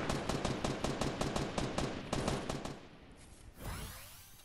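Rapid bursts of automatic gunfire in an online shooter game, loud and rhythmic for about three seconds before trailing off into a single whooshing sweep, with no talk over it.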